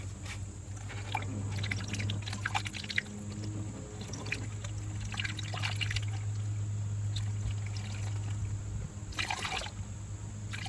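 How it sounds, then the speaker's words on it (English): Antifreeze pours into the cooling hose of a 2014 GMC Sierra pickup during a thermostat replacement. A steady, soft trickle of liquid runs for about ten seconds over a constant low hum, with no talking. "pour some antifreeze in while I lift this up"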